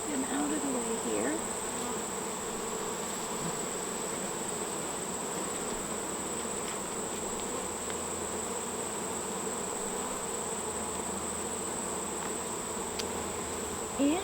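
Honey bees buzzing steadily during an inspection of a new hive, a dense close swarm drone holding throughout with a thin high tone above and faint handling noises, no talking.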